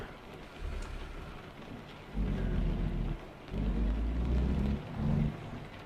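Steady rain with rolling rumbles of thunder in the truck-driving game American Truck Simulator, heavy and close, the low rumbles swelling in several waves, with no talking.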